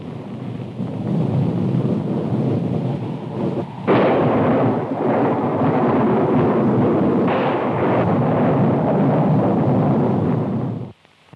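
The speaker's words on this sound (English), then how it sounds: "Storm coming up." A low, sustained roar of storm noise with rumbling swells, like thunder and heavy wind, continuing steadily with no voices before cutting off near the end.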